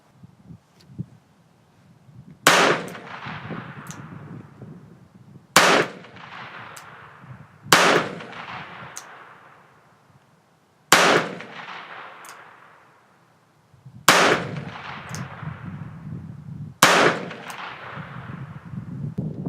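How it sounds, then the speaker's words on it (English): .22 long rifle revolver fired at steel targets outdoors: six sharp, loud shots spaced a few seconds apart, each with a ringing decay and a faint ping from the steel. "This little 22 long rifle revolver here. 8 shots."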